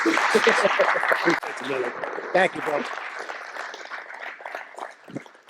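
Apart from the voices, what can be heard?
audience applause at a baseball coaching meeting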